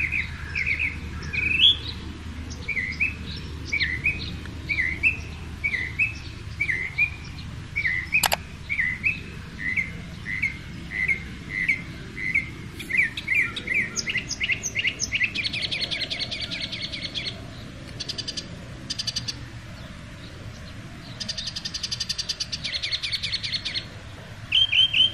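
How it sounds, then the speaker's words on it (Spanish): Birds chirp and sing steadily in the morning in repeated short calls, heard through an open window, with brighter trilling bursts later on, over a low outdoor hum. "quiero que escuchen los pajaritos en la mañana"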